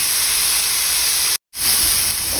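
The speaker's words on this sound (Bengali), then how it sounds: "এখন জাস্ট ফ্রাই করতেছি, হালকা একটু ফ্রাই করতে হবে।" Broccoli lightly frying in a hot pan gives a steady, loud sizzling hiss that runs continuously, broken by one brief silent gap midway before resuming.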